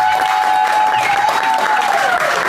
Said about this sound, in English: I want to see you all give me a big hand clap for my dad